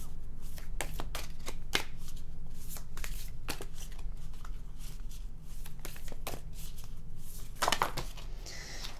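Tarot cards are shuffled close up in a series of crisp riffling and sliding bursts with brief pauses between them, against quiet room tone and no speech.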